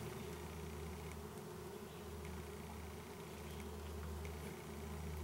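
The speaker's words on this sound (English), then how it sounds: "How often does anybody get to look straight underneath a yellow jacket nest like this?" Eastern yellow jackets swarm at their nest, their close, continuous buzzing forming a dense drone with individual wasps flying past near the listener.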